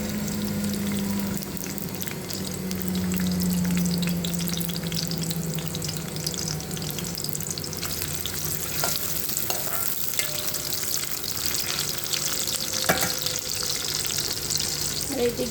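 Chopped onion fries in hot oil in a pan, a steady, close sizzling hiss that runs the whole time, with occasional faint clinks of a utensil over the bubbling.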